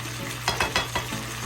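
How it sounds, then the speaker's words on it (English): Ackee and saltfish filling being stirred gently in a pan, a few soft scraping strokes over a low steady sizzle and hum, no voices. "we're going to mix it in nice and slow"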